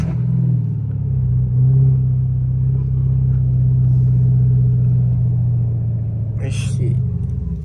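A Dodge Hellcat with no air intake rumbles with a deep, loud, steady low engine drone, close up, while a voice talks over it.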